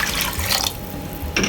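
Water is poured into a cooking pot holding soaked dal, a close, continuous splashing and trickling pour that eases briefly and then surges again at the end.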